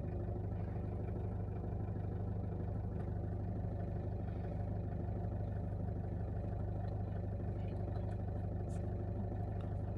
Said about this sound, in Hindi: कुछ सेकंड्स के लिए आप इंजन का आवाज़ सुनो